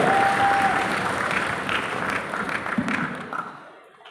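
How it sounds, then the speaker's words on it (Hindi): Sustained applause from a large audience at a national poetry gathering, greeting a Haryanvi humour poet; dense, even clapping that holds steady and then fades out toward the end. "एक बार तालियां बजाएं हरियाणवी कवि के लिए"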